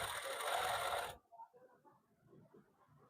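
A sewing machine stitches a men's suit garment in a short, loud burst that stops abruptly about a second in, followed by quiet handling noises.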